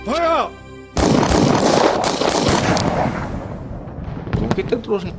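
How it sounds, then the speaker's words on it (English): A burst of gunfire sound effects cracks out in a dense volley, loud and close, shortly after a brief musical tone, then fades into scattered shots with narration voices in a history documentary about Singapore. "The silence was followed by the sound of gunfire."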